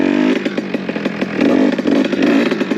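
A 70cc R/T Stage 6 moped engine running rich revs loud and close, its buzzing two-stroke note rising and falling in quick pulsing bursts as it struggles to pick up revs.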